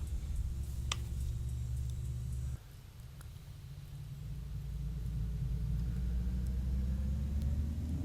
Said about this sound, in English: And it's now time to start engine 1.